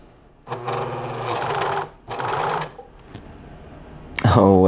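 A sewing machine stitches a black t-shirt in two loud, close bursts of rapid, buzzing stitching separated by a short pause, followed by a brief third run and a sudden louder hum at the end.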